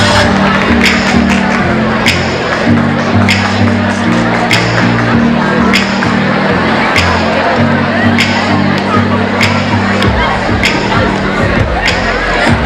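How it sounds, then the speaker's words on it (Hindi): An audience at a college cultural dance event for a silver jubilee applauds and cheers in a continuous loud wash, layered over pounding music with a steady beat. "जोरदार तालियां।"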